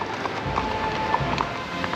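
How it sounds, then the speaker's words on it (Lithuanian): Hooves of two mounted police horses clip-clop along a street beside a large winery in a small town, a steady, moderately near patter over faint background noise. "Štai 2 raiteliai joja, policija."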